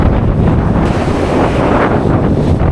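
Loud wind gusts roar against the microphone while churning, fast-flowing river water and waves wash close by, continuous and rough throughout.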